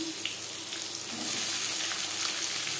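Chopped onion hisses and crackles in a little oil for an aloo chicken curry, a dense steady sizzle that swells louder midway and holds close and continuous, with no voices.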